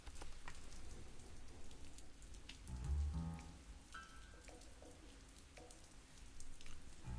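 Rain pouring onto a city street at night, a dense steady patter with a swell of heavier noise midway and faint scattered tones in the background, no voices.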